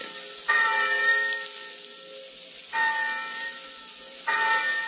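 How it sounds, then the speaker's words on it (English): A college campus bell rings out three times to call students to class, each ring a bright, sustained metallic toll that decays slowly, spaced about two seconds apart with no talk. "thousands of eager college freshmen will hear a bell like this, calling them to their first college class"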